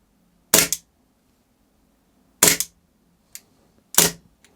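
Beretta M9A3 CO2 air pistol firing as its gas runs low, four sharp cracks with each shot trailing a brief rattle, spaced unevenly over a few seconds, loud and close in a quiet room.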